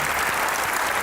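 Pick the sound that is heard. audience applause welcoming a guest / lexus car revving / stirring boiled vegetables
audience applause welcoming a guest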